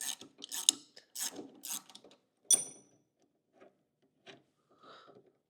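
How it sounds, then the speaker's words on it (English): A wrench works to remove a wheel from an Eride Pro e-bike, giving short ratcheting clicks and metallic taps in quick bursts, then sparse faint knocks in a quiet room. "Okay, got the wrench, got the wheel. Now it's time to take it off."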